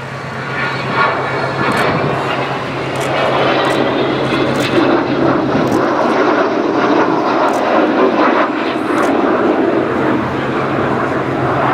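An Avro Vulcan XH558 jet bomber roars overhead at an air show in a steady, broad rumble that holds for several seconds with no talking.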